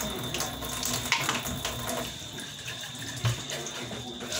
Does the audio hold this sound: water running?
yes